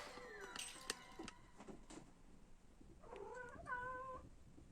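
A cat meows and yowls indoors, asking to go out onto a balcony, with a few drawn-out calls near the mic, quiet and alone.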